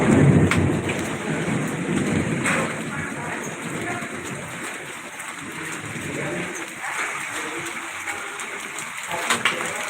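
Steady heavy rain hisses throughout, with a low rumble of thunder near the start and faint bird calls in the background.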